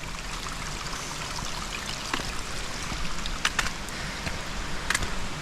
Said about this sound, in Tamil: தண்ணி சவுண்டு கேட்கும்னு நினைக்கிறேன்.